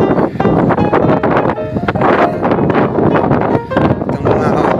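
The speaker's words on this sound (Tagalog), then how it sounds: "medyo malakas ang hangin" Strong desert wind buffets the microphone in loud, continuous gusts with rustling and flapping, nearly drowning everything else over a few seconds.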